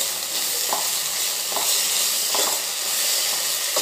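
Tomato stuffing sizzles and hisses steadily in a hot pan on the stove, with a spoon stirring it in soft periodic scrapes roughly every 0.8 seconds, close and loud, with no voices.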